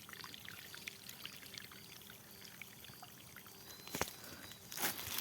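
Water released from a motor pump flows near a river as a continuous soft pouring and trickling rush, fairly faint, with a couple of louder splashy surges near the end.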